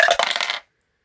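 Dice rolled during a tabletop wargame, a quick bright clatter and rattle lasting about half a second, close and fairly loud, then stopping abruptly into silence.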